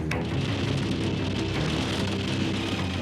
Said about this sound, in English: It's so violent, it's actually hailing right now.